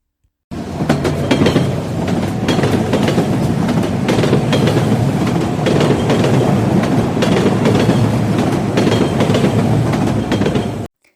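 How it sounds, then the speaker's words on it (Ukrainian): A train rumbles past close by with a continuous rhythmic clickety-clack of wheels on rails, loud and steady throughout. "Звичайно, це потяг."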